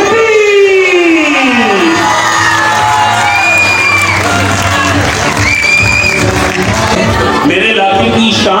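A stage-event audience bursts into loud applause and cheering with whoops and shouts, a dense sustained roar of the crowd throughout, with voices mixed in.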